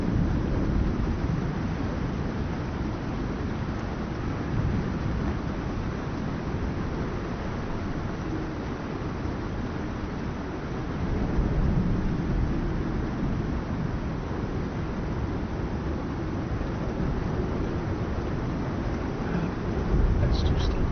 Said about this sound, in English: I can barely hear anything because of the storm.